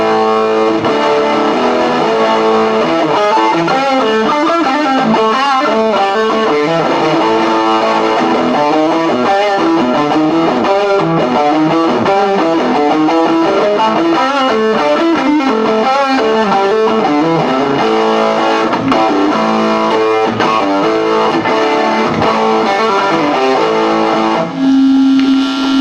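An electric guitar plays through a Squier/Fender SP-10 amp cranked up, giving heavy, saturated midrange distortion in a continuous loud run of chords and notes.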